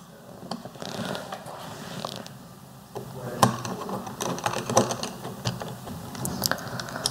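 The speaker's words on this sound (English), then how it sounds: "reattach the bottom plate to the instrument with the 4 screws" Four screws are driven in to reattach the bottom plate of an instrument, giving a series of small ratcheting clicks and scraping turns, close and fairly quiet, with no talk.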